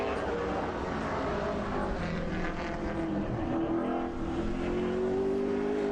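Ciotti Racing Enterprises No. 09 race car driven by Frankie Eldridge running a qualifying lap at Lee USA Speedway, a steady engine drone with a slowly rising pitch, moderately distant, with an announcer talking over it.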